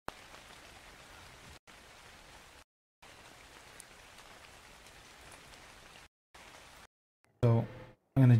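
Steady rain falls in Ark Survival Evolved, a constant hiss broken by several abrupt cuts to silence, with a voice briefly at the end.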